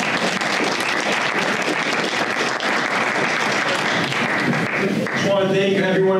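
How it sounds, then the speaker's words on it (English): Loud, sustained audience applause fills the room at a fall expo breakfast and luncheon, dense clapping throughout that thins slightly near the end as a voice begins. "Let's give them a round of applause again."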